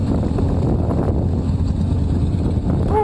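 Steady, loud wind buffeting a microphone at highway speed on a motorcycle ride with a ZX6R and Harley Road Kings against a 20 mph headwind, a continuous low roar filling the whole stretch.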